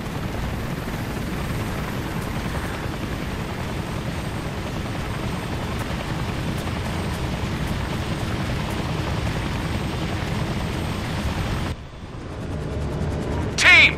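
A helicopter in the video game Operation Flashpoint: Red River thumps and roars steadily and loudly with heavy rotor noise, cutting out sharply near the end before a brief burst of sound.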